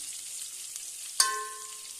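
Curry leaves dropped into hot oil, burst into a sudden sizzle partway through and keep crackling steadily, close and moderately loud, over a faint hiss of frying in the pan.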